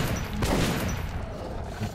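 Gunfire in the video game Metro 2033 Redux, a short burst of shots booming and echoing over a dense, noisy game soundscape, with no voices.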